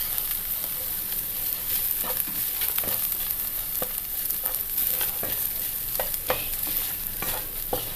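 A spatula stirs masala, onion and crumbled egg yolk in a pan for egg bonda filling, giving rhythmic scrapes and knocks over a soft sizzle, close and steady.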